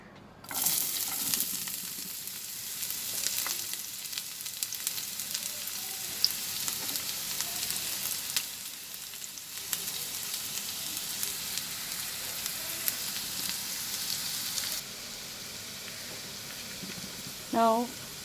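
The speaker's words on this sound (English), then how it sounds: "So here I have heated 2 tablespoons of oil, and now I'm going to add the chopped onions." Chopped onions frying in heated mustard oil in a pan, a continuous bright sizzle that starts abruptly and holds steady before dropping off, with faint background sounds.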